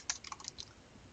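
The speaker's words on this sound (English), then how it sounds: "let me go back to here, type in frame relay" Brief burst of typing on a computer keyboard: a handful of quick, light key clicks in an irregular rhythm, faint and close, with no talk.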